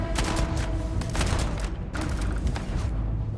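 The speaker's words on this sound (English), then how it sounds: "I'm taking fire!" Rapid bursts of gunfire in the sci-fi video game Starfield, dense overlapping shots in two clusters with a brief lull between, loud and close, without speech.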